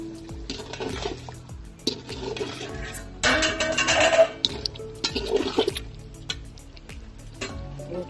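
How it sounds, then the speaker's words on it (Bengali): Water is poured into a pot of beef and potato curry, a splashing, trickling pour that comes in several bursts, with clinks of a pot and utensil between them and background music running throughout. "পানি দিয়ে দিচ্ছি"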